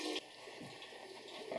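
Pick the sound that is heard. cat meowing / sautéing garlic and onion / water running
water running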